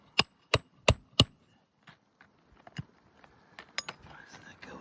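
Four sharp hammer strikes in quick succession as nails are driven into roof shingles, followed by scattered lighter taps and knocks with faint voices and rustling.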